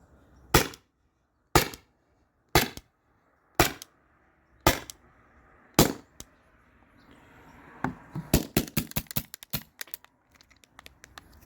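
A Salt Supply S2 salt gun fires six sharp, loud shots spaced about a second apart, followed by a quicker, weaker cluster of pops and clicks as the gas cartridge runs low.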